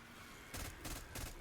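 Three quick bursts of gunfire ring out in Black Ops 6 Zombies, evenly spaced and fairly close, each a short crackling volley over a low game background.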